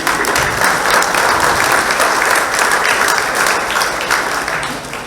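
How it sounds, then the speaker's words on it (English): A crowded audience at a high school Hall of Fame induction ceremony in Maquoketa gives loud, sustained applause, dense clapping that fills the hall and eases off slightly at the end. "So again, give yourselves a round of applause."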